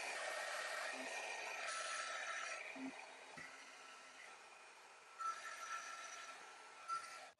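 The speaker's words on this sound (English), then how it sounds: "this is a heat shrink tubing, so I'll use a heat gun to shrink this down" A heat gun blows a steady, even whoosh of hot air while shrinking glue-lined heat shrink tubing on a 12V RV water pump wiring connection, with a few faint clicks and handling noises near the end.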